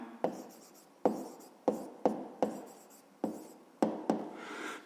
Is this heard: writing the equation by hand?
yes